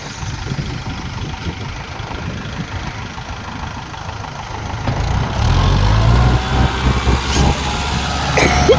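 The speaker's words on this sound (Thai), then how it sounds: "เครื่องยนต์สี่สูบนะค" A four-cylinder Kubota L4508 DI tractor engine idles nearby with a low, steady rumble that grows slightly louder partway through.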